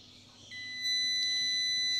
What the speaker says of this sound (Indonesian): tapi nada buzzer bunyi ya